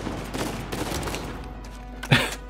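Gunfire in Uncharted 4 crackles in a brief burst of shots, followed by a sharper, louder single report near the end, with no talking.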